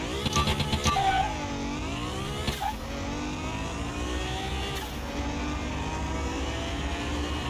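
Corvette Stingray engine in Car Mechanic Simulator 2021 revving hard while racing, with rising and falling pitch through gear changes, a sustained, fairly loud mid-pitched roar.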